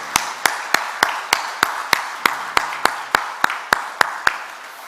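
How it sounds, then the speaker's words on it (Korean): Congregation at a Sunday church service clapping in welcome, a steady rhythmic beat of roughly fifteen sharp, evenly spaced claps over a soft room background, with no talk. "이분들 박수로 한번 환영했으면 좋겠어요"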